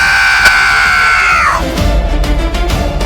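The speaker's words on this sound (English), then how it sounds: "followed by a desperate scream" A loud, drawn-out desperate scream from a dying winged creature, holding a high wavering tone for over a second before sliding down and breaking off into low rumbling noise.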